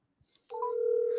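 A phone call ringing out to a real estate wholesaler, a loud steady ring tone starting after a couple of soft clicks and holding strong to the end.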